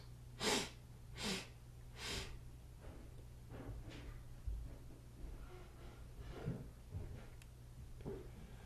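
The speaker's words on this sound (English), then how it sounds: "Three short sniffs" Three short, sharp sniffs drawn in through the left nostril in quick succession, followed by softer, quieter breathing in a calm room.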